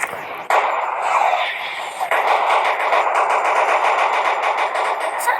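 Rapid automatic gunfire in a shooting video game, loud dense bursts that run almost without a break, with a short gap near the start and another near the two-second mark.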